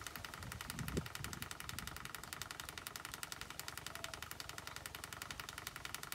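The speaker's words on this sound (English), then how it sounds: "Right now, pump just started on again." Swimming pool pump running steadily with a Hayward AquaNaut 400 four-wheel suction pool cleaner, a constant mechanical hum with fine rapid pulsing, with a brief soft knock near the start.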